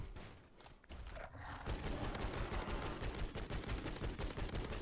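M4A1 rifle in MW3 Zombies fired in single-fire mode, a rapid run of close, sharp gunshots after a quieter opening, steady and dense to the end.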